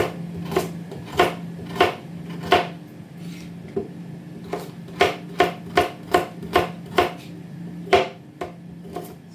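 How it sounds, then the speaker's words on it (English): Chipolata sausages are sliced thinly with a knife on a board, a close, steady series of about fifteen sharp chopping taps with slight pauses, no voices. "will slice these thinly because they're going to be going in the same pan as the sprouts."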